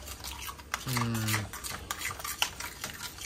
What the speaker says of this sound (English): I'm gonna go ahead and I'm gonna mix that up.